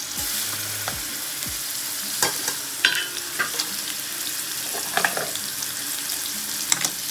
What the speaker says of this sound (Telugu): సన్న మంట పెట్టి ఇట్లా కొద్దిగా లైట్గా వేయించుకోవాలి, ఎక్కువ వేయించకూడదు.